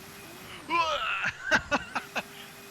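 In a racing video game at the Bahrain GP circuit, a high-pitched racing car engine revs and rises, then breaks into several short sharp bursts, moderately loud over a steady background tone.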